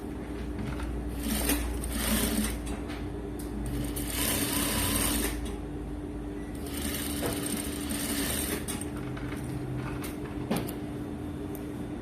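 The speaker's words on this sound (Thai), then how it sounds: "เวลาเย็บ" A sewing machine stitching a cloth face mask with elastic, running in steady rapid bursts that speed up and pause, close and clear with no talk.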